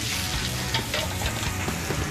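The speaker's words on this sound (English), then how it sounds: "We saute onions." Onions, garlic and zucchini saute in grapeseed oil in a restaurant kitchen pan, giving a steady close sizzle and crackle with occasional stirring scrapes.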